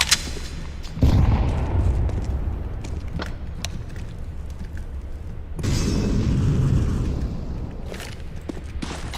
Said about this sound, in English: Throwing flashbang. Fire in the hole.